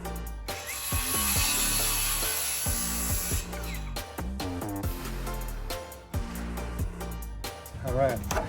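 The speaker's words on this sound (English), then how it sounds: "cutting more blocking for up there" Wood blocking for a soffit is cut with a power saw, loud bursts of whining cutting that start and stop between tool clatter, with people talking at moments.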